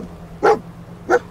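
A dog companion in Fallout 4 barks twice, two short, loud, close barks spaced about half a second apart, with no talk over them.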